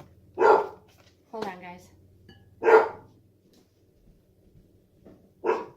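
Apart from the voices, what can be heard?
dog barking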